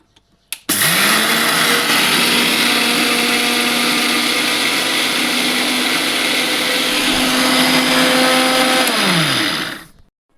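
An electric mixer grinder grinds dried spices, cumin and coriander, in a loud steady whir. It starts with a click and spin-up, holds a constant motor drone for about nine seconds, then winds down and stops.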